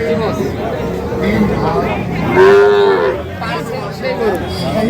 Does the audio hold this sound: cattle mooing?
yes